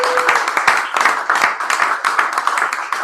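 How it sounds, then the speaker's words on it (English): An audience at a poetry and music open-mic night applauds a performer, with a close, busy patter of hand claps that keeps going at an even level for the whole stretch. "let's give him a warm round of applause"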